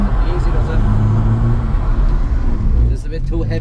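A Nissan 350Z drifts on a track at a drift experience event, its engine droning and shifting in pitch as it passes, with people talking over the car noise.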